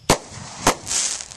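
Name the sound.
fireworks going off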